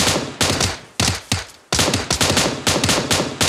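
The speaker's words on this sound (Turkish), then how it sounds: "adam sıkıyor" Rapid automatic gunfire from the PUBG battle royale game on the Miramar map, with repeated sharp bursts and volleys crowding close together in a loud, dense stream.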